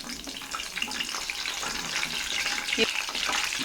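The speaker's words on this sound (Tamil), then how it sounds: "இது கூட ஃப்ரெஷ்ஷான கருவேப்பிலையை ஒரு கொத்து எடுத்துக்கோங்க இப்போது இதை ஆயிலில் சேர்த்துக்கலாம்" A bunch of fresh curry leaves drops into hot oil and fries with a steady, close, bubbling sizzle that swells slightly toward the end.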